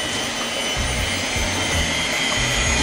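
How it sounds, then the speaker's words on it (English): Small electric mixer whirring steadily through fried chicken batter, a loud continuous motor drone with faint rhythmic dips as the beaters churn, heard alone up close. "Go to our nice little mixer. Start mixing this up."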